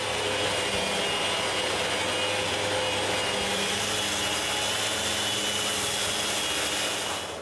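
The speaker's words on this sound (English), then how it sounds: "Then I sand what I didn't sand before." Power sander working over a wooden moveable workbench, a loud continuous whirring drone that holds steady throughout with no pauses or talk.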